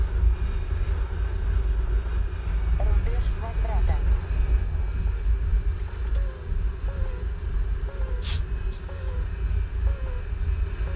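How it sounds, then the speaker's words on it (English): An SU-25 jet aircraft in a video game, a loud steady engine roar and drone throughout with faint electronic beeps, under a person talking. "This SU-25 that I'm flying right now"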